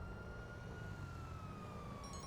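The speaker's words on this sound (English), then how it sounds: "There's still a lot of police siren." Faint police siren in GTA 5 holds a long, slowly falling wail over a dull rumble of traffic, distant and quiet, with a few brief higher chirps near the end.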